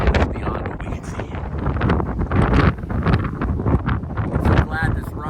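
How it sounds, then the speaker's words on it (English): Strong gusting wind buffets the microphone on an exposed Appalachian Trail mountain summit, roaring and rumbling continuously at close range throughout. "It's windy."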